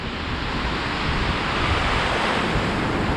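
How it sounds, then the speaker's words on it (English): Rough Atlantic Ocean surf at Daytona Beach, Florida, a close, loud continuous wash of breaking waves mixed with wind noise. "this waves is rough today"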